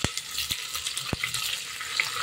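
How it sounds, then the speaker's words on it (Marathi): Chopped onion sautéing in oil in a pan with peanuts and garlic for masala moong dal daliya khichdi, giving a soft, steady frying hiss with a few light stirring knocks, fairly quiet and with no talk. "कांदा पण छान असा परतू द्यायचा."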